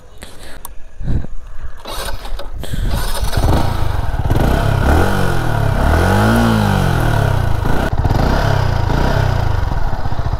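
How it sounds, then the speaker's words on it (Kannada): Yamaha MT 15 motorcycle cranks and starts, then settles into a loud close exhaust note with a few revs rising and falling over the idle, a faint voice now and then underneath. "ಎಕ್ಸಾಸ್ಟ್ ಸೌಂಡ್ ಹಿಂಗಿದೆ."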